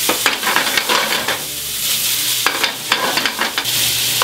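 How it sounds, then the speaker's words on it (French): Bacon and garlic sizzle in a hot pan while being stirred, a constant frying hiss broken by several sharp scraping strokes of the utensil against the pan, close and fairly loud. "Le bacon commence à fondre, maintenant ail."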